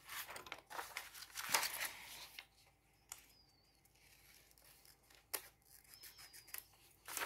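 Scissors cutting paper, a few soft, close snips and crisp paper rustles, quiet overall with pauses between cuts.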